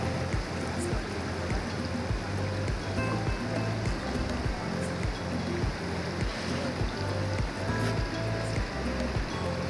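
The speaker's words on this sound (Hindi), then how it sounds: "गंगा हरिद्वार में ही पहाड़ों से नीचे उतरती हैं और धीरे धीरे कई सारी धाराएं एकत्रित होकर के गंगा का विशालकाय रूप ले लेती" The Ganges rushes down from the hills at Haridwar, a loud, continuous roar of flowing river water with a steady low churn throughout.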